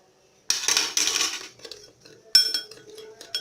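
A spoon stirring sweet coffee in a cup, with close metallic clinks and scraping in two bursts separated by brief quiet.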